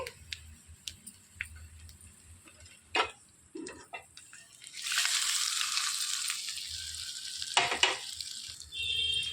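A few quiet clicks and taps, then a sudden loud sizzle as hot tempering hits the egg chutney, crackling on steadily afterward.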